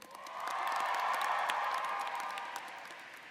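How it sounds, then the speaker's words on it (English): An audience at the Michigan Ross Class of 2018 graduation ceremony applauds award recipients, a steady wash of clapping that swells, holds and slowly eases off over a few seconds. "let's please all give them a big round of applause"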